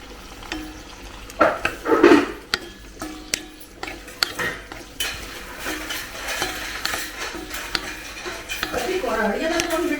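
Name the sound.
cooking in a Swastha cookware kadai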